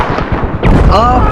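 A tank in a combat video game fires once: a loud, booming cannon blast with a rumbling tail, heard close over a player's voice.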